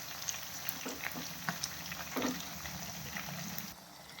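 Chicken 65 pieces fry in hot oil as the pieces are turned, giving a quiet, steady sizzle broken by scattered pops and crackles, with light clinks from stirring.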